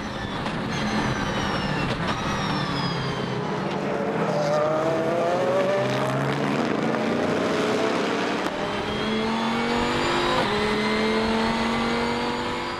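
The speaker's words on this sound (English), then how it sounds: "Again, the Viper and the Corvette going at it." Viper and Corvette race cars battling wheel to wheel at the Zolder circuit: loud, high engine wails that rise and fall in pitch through gear changes as they scream past, continuous and alone.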